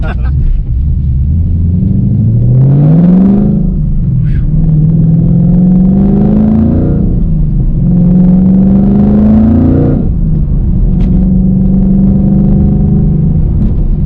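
A boosted 2021 Ford Mustang Mach 1 accelerates hard, its loud engine note rising in pitch through three or four repeated pulls with brief dips between gears, close and dominant throughout.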